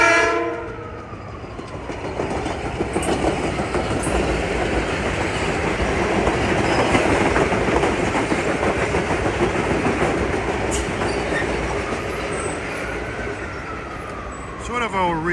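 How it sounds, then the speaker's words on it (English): A Metro-North express commuter train on the Harlem Line roars past close by in the evening, a loud sustained rush of wheels and rail noise that swells and then fades, with a brief horn-like tone near the end. "here comes a fast train at 5:37"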